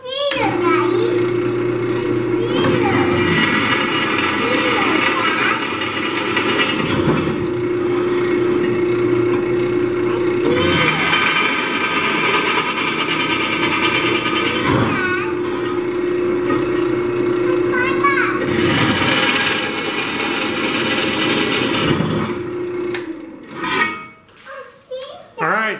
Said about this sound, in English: All right, so we got our holes drilled.